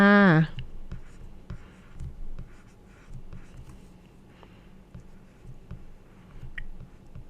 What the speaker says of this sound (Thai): เราก็ต้องไปเขียนข้างล่างว่า เอก ใช้เวลา